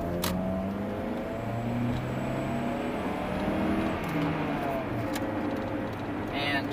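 A 2005 Honda CR-V with a manual gearbox drives along, its engine note rising and shifting over steady road and tyre noise, with a voice talking over it.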